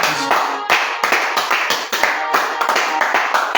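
A congregation at a prayer service claps in a brisk, fairly regular rhythm, loud and close, with voices acclaiming over the handclaps.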